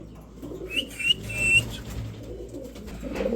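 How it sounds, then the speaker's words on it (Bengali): A pair of modern bondinette pigeons cooing close by, soft low murmuring coos with a brief whistle-like note, over faint background noise and no talk. "দর্শক এখানে দেখতে পাচ্ছেন একজোড়া বন্ডিনেট কবুতর, মডার্ন বন্ডিনেট"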